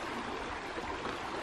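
A river on the Heron Pond Trail at Cache River in the fall flows with a steady, close, broadband rushing wash that holds an even level throughout, with no voices.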